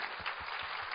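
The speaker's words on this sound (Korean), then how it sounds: "하나님께 영광의 박수야" Brief congregational applause during a church sermon, a steady wash of many hands clapping close together, continuous and fairly even throughout the short moment with no voices on top.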